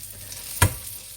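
Lamb rissoles made from leftover lamb and potato, bound with egg and flour, fry in a pan with a soft steady sizzle and one sharp clack midway.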